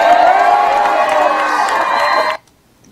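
A crowd claps and cheers loudly in a dense, sustained roar of hands and raised voices, then cuts off abruptly into silence.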